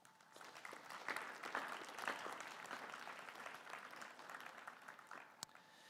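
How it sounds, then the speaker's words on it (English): An audience at a school awards ceremony at Rolleston College claps in a sustained round of applause, fairly faint and distant, steady throughout with a few sharper claps. "I think we give them all a round of applause for being nominated in this category."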